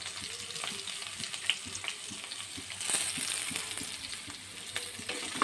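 Onion and curry leaves frying lightly in oil in a pan for tomato rice, giving a steady, close, even sizzle with occasional soft stirring taps and no voices.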